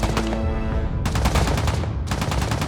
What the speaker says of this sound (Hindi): उनसे कहो फायरिंग रोक दें।